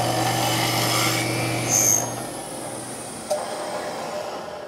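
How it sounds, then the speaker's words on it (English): A power drill with a drill bit enlarges a hole in wood in a shop, giving a loud steady whir with a low hum that drops off partway through, leaving quieter motor noise and a brief click. "make that hole a little larger with a drill bit"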